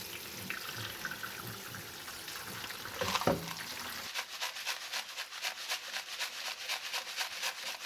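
Water runs over LECA clay pebbles held above a bowl, a steady close splash and trickle that turns into a rhythmic rinsing slosh partway through, with no talking.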